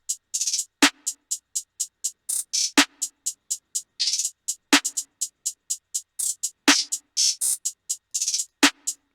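Hip hop beat programmed with every hi-hat at identical velocity: a steady, evenly loud stream of crisp hats over sparse punchy kicks, sounding flat and mechanical with no dynamic variation.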